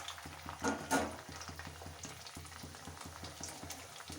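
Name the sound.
pre-fried cauliflower frying again in a wok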